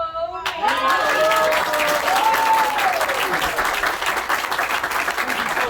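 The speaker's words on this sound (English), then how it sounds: "That applause is for you." Audience applause after a magic trick at a live show: a loud sustained burst of crowd clapping, with a voice briefly calling out near the start.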